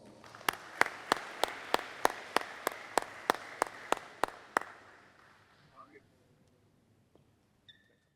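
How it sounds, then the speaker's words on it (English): Clapping at a high school college softball signing: about a dozen sharp, evenly spaced claps ring out in a quiet room, then stop and leave faint room noise. "Please give him a round of applause."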